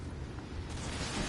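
A burst in the video game Remnant on PS5, a steady broadband roar with a low rumbling body that holds for the whole moment at moderate loudness, with no voice over it.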